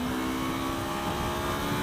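Engine of a 2015 Yamaha R3 motorcycle revving after a downshift to fourth gear, a steady, dense mechanical drone heard up close with wind noise and no talking.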